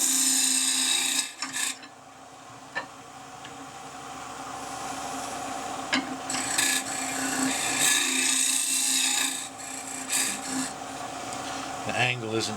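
Pear wood turning on a wood lathe during rough shaping of a box, giving a steady close scraping and rasping of the tool against the spinning blank, with the motor humming throughout and brief dips where the cut lifts.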